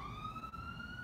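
Emergency siren outside sounds as one steady, slowly rising tone heard from a distance, fairly faint, with no talking over it.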